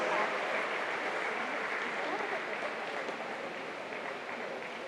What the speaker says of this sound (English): A round of applause for Club 37, ladies and gentlemen, the relay winners from tonight's finals.